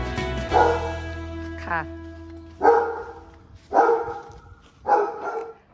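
A pet dog named Drogba, recovering from illness, gives three sharp, close barks at a home in Thailand, spaced about a second apart after a stretch of talking; a voice speaks before the barks.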